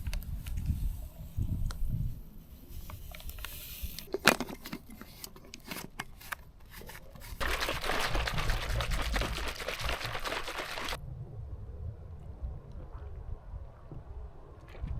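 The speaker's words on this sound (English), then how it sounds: "I'm going to fill up my water bottle with the isotonic lemon flavoured drink" Isotonic lemon-flavoured drink poured into a water bottle outdoors, a steady rushing pour of liquid for a few seconds after some handling clicks, close and moderately loud, then quiet.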